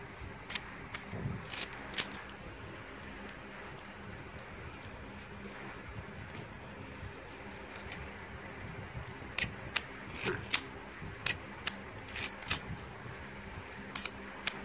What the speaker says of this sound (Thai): ชัตเตอร์ทำงานปกติแล้วนะ